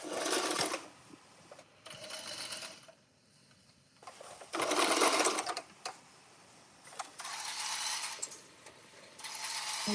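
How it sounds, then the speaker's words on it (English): Sewing machine stitching hair, running in loud bursts of a second or two separated by short pauses, with one longer quiet gap partway through. "we sew."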